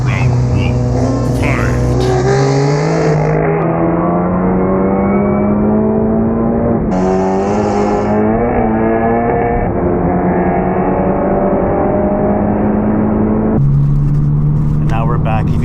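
A modified Volkswagen GTI engine hums steadily and rises in pitch as it accelerates through gears, close and loud, with a brief hiss of air in between.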